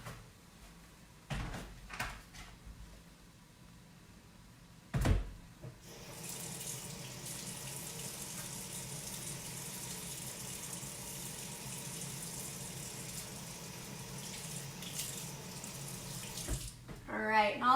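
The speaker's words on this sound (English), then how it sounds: "We're gonna wash this knife." A kitchen tap turned on and running steadily while a knife is rinsed, preceded by a few clatters and knocks, the water flowing in a continuous close hiss before being shut off.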